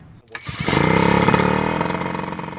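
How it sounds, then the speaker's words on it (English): A portable fire water pump engine catches after a brief pull, then roars up into a loud, steady revving drone that holds close and strong before easing slightly toward the end. "And then he revs up the water pump."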